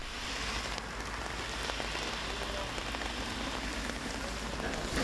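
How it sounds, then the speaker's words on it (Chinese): Heavy rain pours steadily onto surfaces in a rural bamboo-mushroom growing area, a dense continuous hiss with scattered drop impacts throughout, moderately loud and with no voices. "即係落大雨喎喂"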